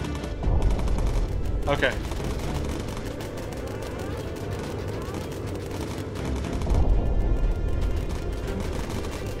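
Rapid bursts of machine-gun fire rattle in Bomber Crew, dense continuous volleys with a louder stretch midway, while a person speaks briefly over the shooting.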